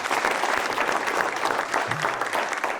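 Studio audience applauding on an Ethiopian holiday game show, steady dense clapping that fills the whole stretch with a slight murmur of the crowd underneath.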